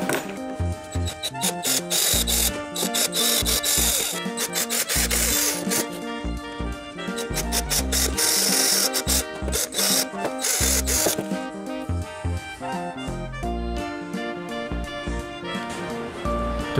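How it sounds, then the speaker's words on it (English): A Dremel rotary tool mills a long slot into a robot base, a loud close grinding and rasping buzz with a steady drone that cuts in and out as the bit is pressed and lifted. "we can mill a long hole using a Dremel tool."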